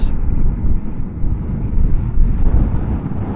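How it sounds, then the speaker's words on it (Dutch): Steady, loud wind buffeting on a microphone while riding a motorcycle with a crosswind from the left, a continuous low roar that rises and falls slightly throughout, with no voices. "Er is nog wat wind vandaag, die gaan we nu beleven,"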